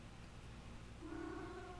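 An indoor pet cat lets out a single drawn-out meow, quiet and close, after a moment of near silence.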